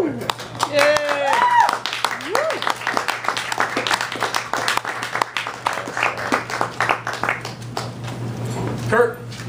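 Audience applause at a live storytelling show, steady clapping filling the room throughout, with whoops and cheers rising over it and a dog yipping and whimpering at moments.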